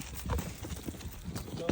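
Horses crowding in for oats and corn feed, with soft hoof clops and shuffling steps under low background noise, close and fairly quiet.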